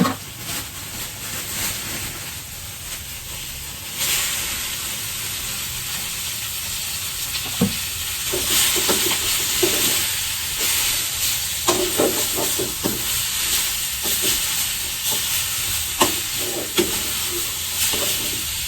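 Minced pork for pad kra pao hits a hot pan and stir-fries with a loud, steady sizzle, broken by scraping and clattering from the spatula, with no talking.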